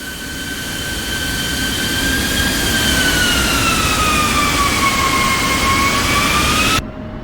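An F-16 jet engine in the DCS flight simulator game runs up with a loud, steady turbine roar as a high whine slowly slides downward, then cuts off abruptly near the end.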